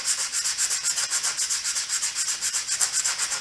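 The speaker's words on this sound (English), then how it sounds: "Grab your sanding block. Knock those pieces of foam off there." A sanding block scrubs foam board edges in quick, regular back-and-forth strokes, a close, dry rasping rhythm of about eight strokes per second with no voices.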